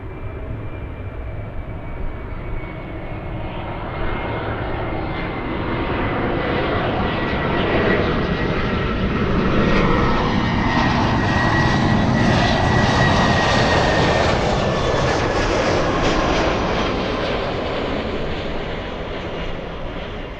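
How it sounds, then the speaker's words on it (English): An Airbus A380 jet near LAX over Santa Monica produces a loud, continuous engine roar that swells to a peak midway and slowly eases off, with a faint descending whine. "A380 over Santa Monica"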